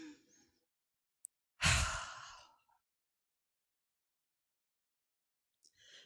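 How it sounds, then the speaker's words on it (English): One deep breath in, then let out as a soft puff, close and alone: a brief intake followed by a breathy exhale that fades over about a second, then near silence with a faint breath at the end. "I might take an extra deep breath and let it out as a puff."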